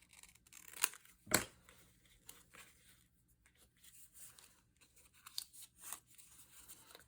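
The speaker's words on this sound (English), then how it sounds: "And then come in with your scissors" Scissors snip paper corners in a craft session, with a few sharp close cuts and soft paper rustling between them, quiet and without talk.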